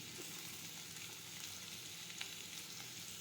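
Chutney added to a hot pan for a bitter gourd curry, a steady faint hissing sizzle throughout with no voices.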